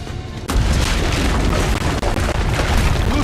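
Cannons fire in the Assassin's Creed Brotherhood video game, a sudden loud boom after a brief quiet opening that swells into a continuous, dense roar of explosions.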